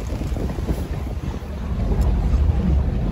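A 1999 Hacker Craft 30 triple cockpit runabout boat runs on the water with a steady low engine rumble, heavily buffeted by wind noise throughout.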